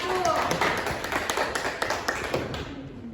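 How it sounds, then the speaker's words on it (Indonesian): A small group clapping briefly, scattered claps with voices chattering over them, in a classroom after a group presentation. "tepuk tangan dulu untuk kelompok 1"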